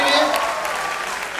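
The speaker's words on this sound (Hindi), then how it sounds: "तालियां हो जाए Indian Super League के लिए।" An audience applauds the Indian Super League ad film at an intercollegiate short film competition, with a brief, fairly loud patter of clapping that starts strongest and settles slightly.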